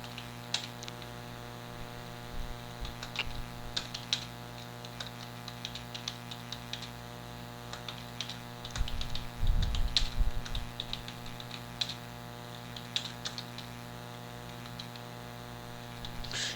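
Keystrokes on a computer keyboard while entering text in stickman animation software, light scattered clicks over a steady mains hum, with a louder bump of handling noise near the middle.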